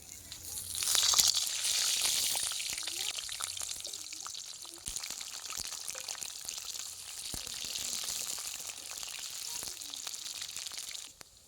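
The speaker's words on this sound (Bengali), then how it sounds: "এখন আমি আলুগুলোকে ভেজে নিচ্ছি" Potatoes fry in hot mustard oil in a wok, giving a steady close sizzling hiss that swells early on, then settles into an even crackle with faint scattered pops.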